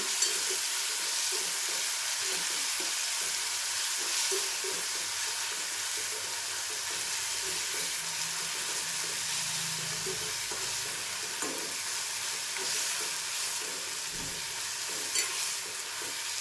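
Chopped tomatoes with salt frying in a pan for a Malvani-style tomato curry, a steady loud sizzle under continuous stirring and scraping, with no voices.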